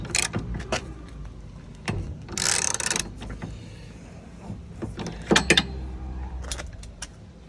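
A ratchet tightens the 16 locking-thread bolt of a tow hitch on a Renault Scenic, producing quick bursts of metallic clicking separated by quieter pauses and faint handling clatter.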